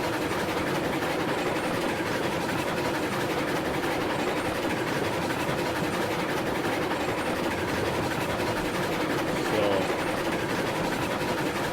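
A freight train loaded with wood products rolls along in the video game RailRoads Online, a steady, dense rumble and rattle of cars on the track that continues unbroken throughout, with no talking.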